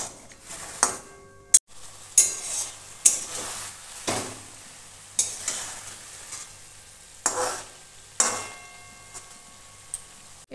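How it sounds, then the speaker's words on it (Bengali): A simmering curry of eggplant, yardlong beans and potatoes is stirred in a pot. A spoon makes repeated scraping, clinking strokes at a steady rhythm over a soft bubbling sizzle, recorded close with no talking. "এটা আমি এখন নেড়ে একটু ফুটতে দেবো।"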